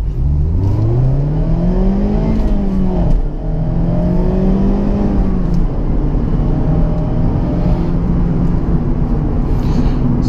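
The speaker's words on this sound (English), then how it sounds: "Do a little acceleration right here, first gear." A Mazda Miata pulls hard in first gear, its engine note climbing steadily in pitch with a brief dip near a shift point, loud and continuous from start to end with no talk over it.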